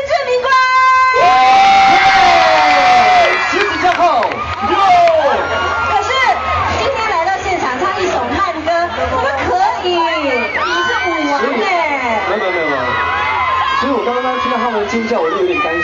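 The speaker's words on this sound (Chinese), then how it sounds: "他们尖叫，我就有点担心" Fans scream and cheer loudly at an awards ceremony, a dense, sustained crowd roar with high shrieks and whoops running throughout.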